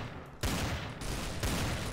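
Bursts of gunfire in the video game Trouble in Terrorist Town, with a loud volley starting abruptly and a second surge a second later, dense and continuous with no speech over it.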